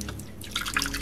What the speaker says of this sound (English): The water just drains right out.